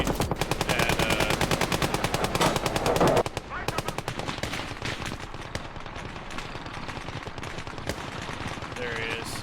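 Rapid machine-gun bursts crackle loud and dense in the World War II game Gates of Hell, firing almost continuously for a few seconds, then continuing as sparser shots over the steady rumble of battle.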